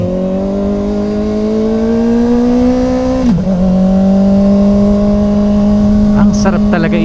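A Kawasaki ZX-4RR sport bike engine revs close by with a strong, steady harmonic whine that climbs in pitch, dips briefly at a gear change midway, then keeps rising, with a few sharp blips near the end.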